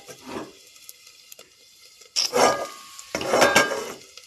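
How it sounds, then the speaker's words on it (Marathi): A metal lid clatters onto a pan on a gas stove, with sharp clanks and scraping bursts after quieter kitchen handling sounds, close and fairly loud. "आणि याच्यावर झाकण ठेवू आपण"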